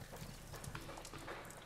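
Horse hooves clip-clop steadily in a Sherlock Holmes video game, a brisk run of close, even hoofbeats over a busy game soundscape with no talking.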